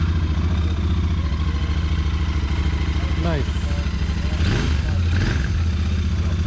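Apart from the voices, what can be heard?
Royal Enfield Interceptor 650 motorcycle engine starting and idling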